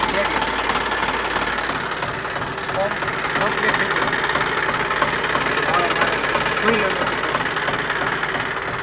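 A John Deere diesel tractor engine idles steadily and loud for the whole stretch, a continuous rumbling drone with a faint knocking rhythm underneath.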